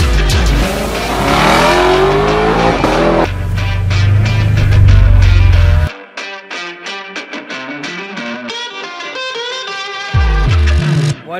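A 2015 Subaru Legacy engine with its muffler cut off revs hard and loud up close, a raspy roar that climbs, drops sharply to a lower rumble, then surges again, with no talk.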